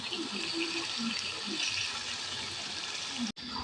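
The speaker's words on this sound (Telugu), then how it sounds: "ఇక్కడ ఇంకా ఆయిల్ అయితే బాయిల్ అవ్వడం అయితే స్టార్ట్ అయ్యింది." Oil for a homemade hair oil heats in a kadai on a stove, giving a steady close broadband hiss and faint bubbling that continues evenly, with a brief dropout near the end.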